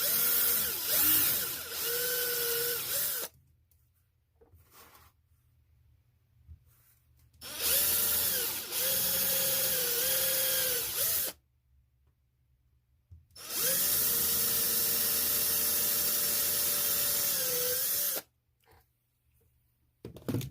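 A power drill bores through an aluminum body panel for an Axial Wraith, three long whining bursts separated by pauses, loud and close, with pitch dipping and rising as the bit bites into the metal.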